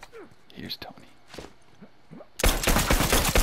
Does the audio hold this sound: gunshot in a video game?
yes